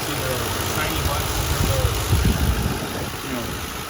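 A 2011 Ford Crown Victoria with 102k miles and freshly replaced ignition coil packs idles steadily up close, a smooth continuous engine rumble with a faint rise in vibration partway through.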